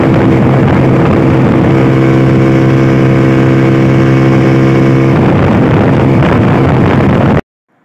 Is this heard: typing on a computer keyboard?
no